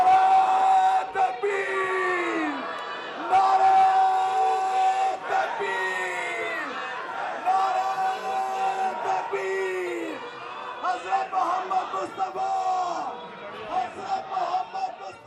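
A crowd gathers on a street in Canada as Huzoor appears, with loud chanting and cheering voices rising in repeated rhythmic waves, close and sustained.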